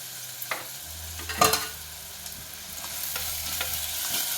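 Garlic fries in a pan with salt, sizzling steadily up close while being stirred, with a sharp utensil clatter early on and a soft hiss continuing underneath, no voices.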